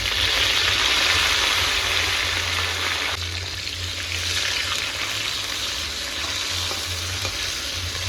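Bay leaf and onion fry in mustard oil in a wok, giving a loud, continuous sizzle with faint stirring scrapes throughout, and no one speaking.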